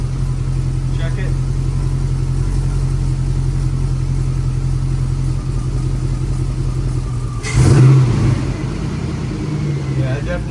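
A 1965 Ford F100 pickup with an LS engine swap on a Crown Vic frame hums steadily at idle, then gives a brief louder rev as the truck lurches, with muffled voices around it.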